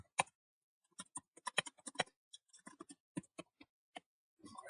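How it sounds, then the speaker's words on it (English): Typing on a laptop keyboard: light, irregular bursts of close key clicks with brief pauses between them, quiet and alone with no talk. "and now I can start typing."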